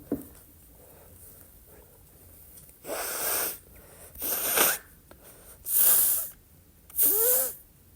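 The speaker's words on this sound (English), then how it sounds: "blow my nose" Four loud, broadband nose blows in a row, each a roughly half-second honking burst, separated by short quiet gaps, close to the listener.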